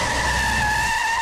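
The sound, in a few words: car braking hard, tires skidding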